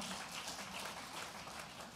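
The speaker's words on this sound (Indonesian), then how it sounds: "boleh saya dengar tepuk tangannya yang paling meriah buat Yesus Tuhan kita" A church congregation claims for Jesus in a dense, continuous wash of applause that holds steady and fairly faint throughout, with no voices over it.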